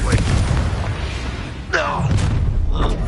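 Confringo explosion spell in Hogwarts Legacy: deep booming blasts and bursts in a dense, loud game battle, with a swooping magical whoosh in the middle and continuous rumbling combat noise throughout.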